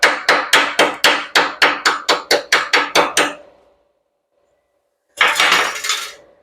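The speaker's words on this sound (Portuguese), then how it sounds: "e aí você vem e bate essa escória" A hammer chips slag off a fresh tack weld: about a dozen quick, sharp metallic strikes in a steady rapid rhythm, a few seconds of quiet, then another short burst of close, loud knocking.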